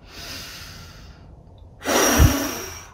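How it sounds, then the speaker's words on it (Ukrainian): Breath is drawn in and then pushed out through a closed mouth as a post-COVID lung-recovery breathing exercise, a soft airy exhale followed by a louder, close, forceful rushing breath. "Вдих і з закритим ротиком стараєтесь видихувати."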